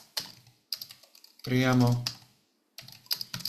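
Keys clatter on a USB keyboard plugged into a mobile phone, a quick run of close taps, broken by a spoken word and a short silence.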